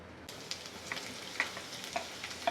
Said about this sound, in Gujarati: ઘી ગરમ થાય પછી આદુ મરચાં અને લસણ અંદર નાખીશું।